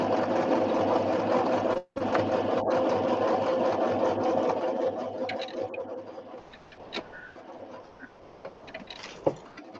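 A sewing machine runs in a steady, loud whir while stitching a fabric pocket book, with one brief pause and then lighter, intermittent mechanical clicks and taps as the work continues.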